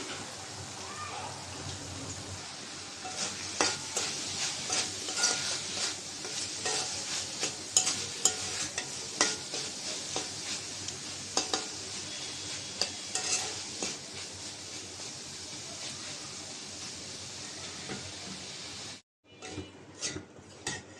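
Potatoes and small sea shrimp are stir-fried in a pan, giving a soft sizzle under irregular scraping and stirring strokes, then a brief silence before more stirring.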